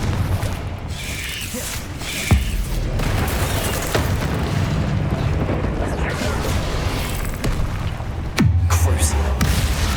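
Booming spell explosions in Hogwarts Legacy combat, several sharp blasts bursting over a dense, rumbling battle din, with a particularly heavy impact near the end.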